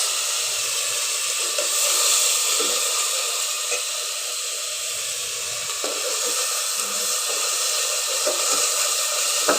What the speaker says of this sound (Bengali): আমি এখানে মশলা বেজে নিচ্ছি